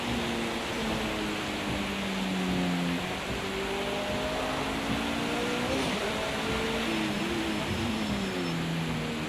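A race car engine at a Group C endurance race at Brands Hatch, picked up from a helmet camera: a steady, loud, broadband roar with shifting engine tones rising and falling, muffled and heavily masked by constant wind noise throughout.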